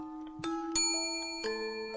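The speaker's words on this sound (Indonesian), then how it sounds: "Aku memencet bel yang ada di meja resto yang digunakan untuk pemesanan." A restaurant table service bell for ordering rings twice, close and bright, each strike leaving a sustained metallic ring that lingers and overlaps, with no voices.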